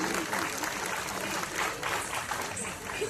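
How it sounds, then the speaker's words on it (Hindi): An auditorium audience at Ravindra Bhavan in Bhopal claps after a Teen Taal Kathak dance performance, a steady wash of applause at moderate volume with faint murmuring beneath. "एक बार जोरदार ताली होना चाहिए इतने प्यारे नृत्य के लिए।"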